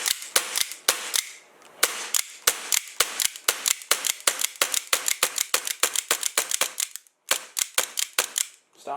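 An Atomic Armoury Gen 2 1911 gel blaster running on a CO2 magazine, firing about twenty-five sharp, loud snapping shots at a quick, slightly uneven pace, with a short pause before the final few, no talking.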